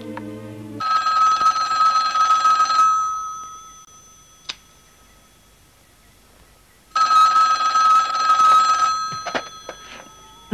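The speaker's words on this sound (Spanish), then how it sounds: "El teléfono, por favor." An old telephone bell rings in two long bursts of about two seconds each, loud and close in a quiet room, separated by a pause with a faint click.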